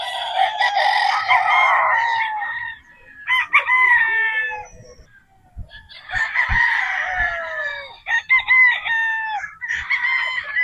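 Several roosters, gamefowl including Gilmore Hatch and Boston Roundhead, crow loudly and close by, overlapping one another, with brief clucks and low thumps between the calls.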